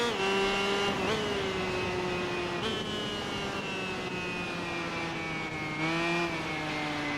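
A 125cc racing motorbike engine in the video game Tourist Trophy whines at high revs, dipping slightly between gear shifts and climbing again, with the steady, close buzz sustained throughout.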